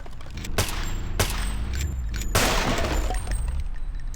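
Gunfire in the video game Deus Ex: several sharp, loud shots spaced about a second apart, the last followed by a rattling, shattering burst and lingering rumble.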